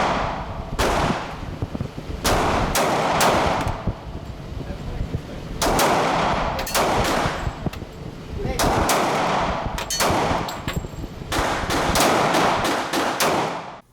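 Loud, close rapid gunshots from a Glock 27 Gen 5 pistol, fired in several quick strings of sharp reports with brief pauses between groups, echoing over an outdoor range.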